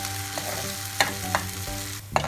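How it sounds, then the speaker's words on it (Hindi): Onion, garlic and ginger paste fries in oil while being stirred for Punjabi-style dum aloo, giving a continuous close sizzle broken by a few sharp scraping strokes of a spoon against the pan. "अब हम इसको बराबर मिलाते हुए अच्छी तरह से फ्राई करेंगे।"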